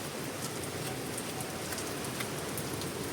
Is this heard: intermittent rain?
yes